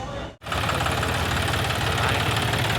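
A tractor engine idles loudly and close, a steady throbbing mid-low rumble with a slight knock, after a brief dropout at the start, while a Ganesh idol is loaded aboard for the trip to the village.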